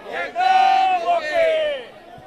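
A rally crowd chants a slogan in unison at a Shiv Sena (UBT) nomination rally in Maval with Aaditya Thackeray. Many voices roar it loudly as one drawn-out shout lasting about two seconds.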